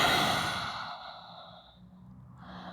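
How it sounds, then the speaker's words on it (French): Lion's breath yoga exhalation, tongue out, in a home postnatal yoga session: a long forceful breathy sigh that fades over about two seconds, followed by a softer breath. "donc respiration du lion"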